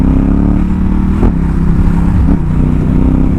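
Ducati Hypermotard 939 SP on a Johannesburg road, loud close engine drone with two quick gear-change dips as it accelerates, wind roar throughout.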